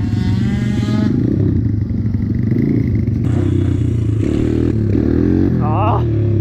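A 50cc moped races through town at night, its engine droning loud and steady with a high buzzing whine throughout, and a brief rising rev near the end.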